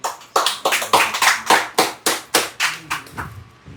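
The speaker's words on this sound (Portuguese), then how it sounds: "Aplauda ao Senhor." Church congregation applauding during an evening worship service, with about a dozen sharp, evenly spaced claps that land close together and fairly loud, then thin out toward the end.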